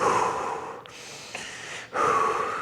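Slow, deep breaths during a breathwork exercise, a long exhale, a pause, then another breath drawn in close to the mic, with no talking.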